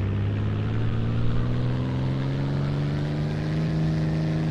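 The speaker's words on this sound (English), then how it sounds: "Now we put the throttle up and go." Airplane engine in a video game throttling up for takeoff, a loud steady drone with a gradually rising pitch, heard alone without talk.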